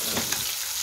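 Green beans roasting in a pan, a brief, steady sizzle and crackle of frying, close and continuous, with no voices.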